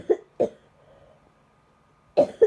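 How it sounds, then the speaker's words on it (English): A person coughs in two short pairs of bursts, close to the mic, with a quiet gap between the pairs and faint low murmuring in between. "I'm about to cough all over"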